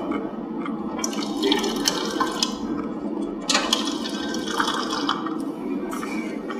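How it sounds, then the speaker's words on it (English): Fresh water running from the tap of a combined toilet and sink unit, a steady close splashing stream with small drips and gurgles throughout. "this is a combination of toilet, sink, and the sink provides fresh water"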